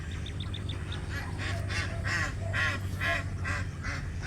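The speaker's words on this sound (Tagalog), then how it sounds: "yung ibang mga itik nandito pa sa loob yung iba ay nasa labas na" Domestic ducks quack in repeated nasal bursts, some inside a pen with eggs and others outside, over a low steady hum; the calls come in a loose rhythm at moderate distance.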